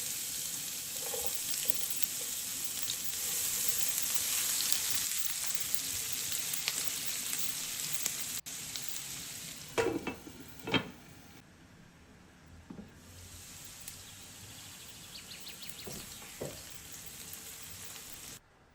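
Onion cooking in the same pan just used for salmon fillets, a steady moderate sizzle with a few clattering handling sounds partway through before it softens toward the end.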